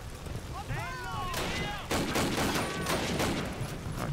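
Bursts of machine gun fire in the World War II shooter Call of Duty: United Offensive, dense crackling reports over game noise, with a voice talking through the shooting.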